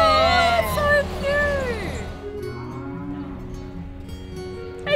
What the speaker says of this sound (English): there's cows crossing the bridge